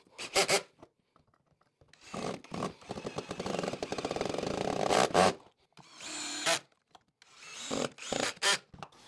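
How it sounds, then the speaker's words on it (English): A power drill drives screws into pocket holes in wood with its clutch set low, giving several loud whirring bursts of varying length separated by short pauses, close up. "I have the clutch set at 10 so I don't overdrive the screws, tear up the threads"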